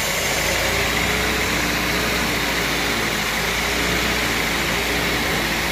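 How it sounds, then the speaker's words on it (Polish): A Ford Mondeo Mk3 with a Duratec HE engine idling with an intake air leak, producing a steady, even hum and hiss that holds without change, heard up close under the bonnet. "Wessało, a silnik dalej pracuje."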